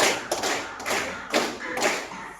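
A class of pupils clapping in unison, a short run of loud, evenly spaced group claps with a slightly looser final beat, and no voices.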